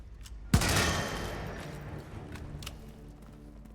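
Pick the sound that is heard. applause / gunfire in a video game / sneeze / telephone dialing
gunfire in a video game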